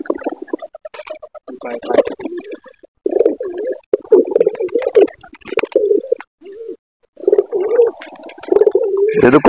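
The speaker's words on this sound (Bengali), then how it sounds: "সকালবেলা কবুতরগুলো ছাড়লাম, দেখতে পাচ্ছেন সব কবুতর নিয়ে চলে আসছে" Domestic pigeons coo in a series of close, loud, throaty bursts with short pauses between them, and faint chirps are scattered around.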